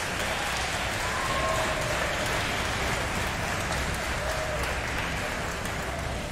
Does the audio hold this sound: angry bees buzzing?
no